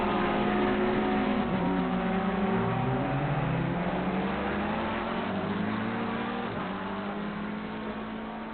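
GT3 race cars in the Assetto Corsa Competizione video game during qualifying, layered engine notes rising and falling as cars accelerate, brake and downshift, steady and moderately loud with no speech.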